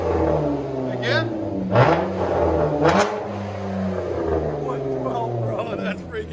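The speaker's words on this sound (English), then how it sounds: "Chrysler 200 V6." A Chrysler 200's 3.6L V6 with straight-pipe exhaust blips and revs up loudly a few times, up close, settling into a rumbling idle, with voices talking over it.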